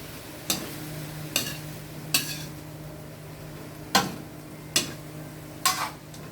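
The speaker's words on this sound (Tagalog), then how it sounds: "Halo-haloin lang po natin." A utensil stirs pork adobo with string beans in a pan, giving about six distinct scraping clacks at roughly one-second intervals over a low steady hum, with no talking.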